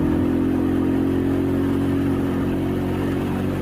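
A Honda Supra motorcycle labors uphill on a newly paved road, its engine droning loudly and steadily at a constant pitch, heard close and alone with no voices.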